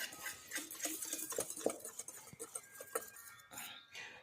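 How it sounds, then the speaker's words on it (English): Cookie dough ingredients of flour, cinnamon, baking soda, nutmeg and baking powder are stirred in a bowl, giving soft, irregular scraping and light clinks of a utensil, faint and close. "and we're going to mix."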